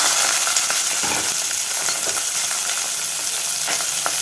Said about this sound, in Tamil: பூண்டு ஒரு அஞ்சாறு பல்லு போட்டுக்கலாம் சின்ன வெங்காயம் ஒரு பத்து இருபது சின்ன வெங்காயம் சின்ன கட் பண்ணி அதையும் போட்டுக்கலாம்